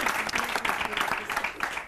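A studio audience on the Catalan spelling quiz show Pica Lletres gives a brief, fairly faint burst of clapping, with voices mixed in.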